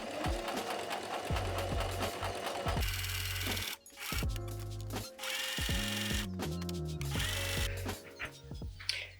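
A sewing machine stitches the side seams of a blouse sleeve in long, steady runs broken by brief stops, close and loud, with no voices.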